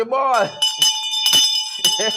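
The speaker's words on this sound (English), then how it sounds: "Stephen Burnett asked me to ring the bell." A bell is struck during a Republic anniversary celebration, its bright ringing tones sustained and repeating in several strokes while a voice speaks loudly alongside.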